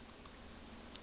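Three quiet, isolated computer mouse clicks, made while working in SharePoint 2013 PerformancePoint software: two close together early on, then a slightly sharper one after a pause, over faint room hiss.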